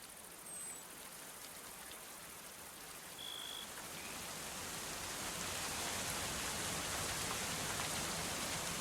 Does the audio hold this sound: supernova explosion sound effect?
no